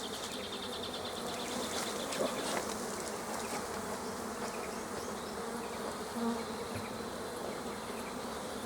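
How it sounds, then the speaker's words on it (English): Honey bees buzz around honey super frames at a hive, a dense continuous drone that holds steady throughout with no voices. "And you'll see the bees pouring out."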